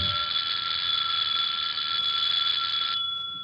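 A shrill electric doorbell rings continuously for about three seconds in a 1946 radio drama, loud and close, then cuts off abruptly.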